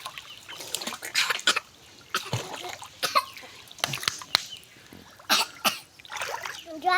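Children learning to swim in a village pond splash the water in irregular bursts, mixed with coughing, spluttering and voices nearby.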